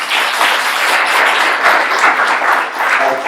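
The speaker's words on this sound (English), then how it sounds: "So, applause for all of them." Applause from the audience at a housing-focused panel discussion, a dense, even wash of many hands clapping that holds steady from start to finish, with no voices over it.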